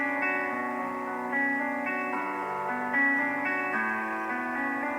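Piano melody of a song, a steady tune of held notes shifting every second or so, colored by chorus and echo-like processing, with no talking.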